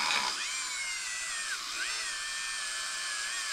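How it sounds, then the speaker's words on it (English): A Dremel rotary tool spinning a soft brass brush against rusty metal on a forgotten KE100 motorcycle gives a steady high-pitched whine that dips and rises in pitch under load, loud and continuous throughout. "So I'm going to take a Dremel here and just kind of hit it. This is a soft brass brush"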